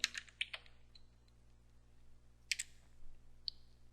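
Sparse key clicks on a computer keyboard, a few sharp taps at the start and a small cluster later, faint and close against a quiet room hum.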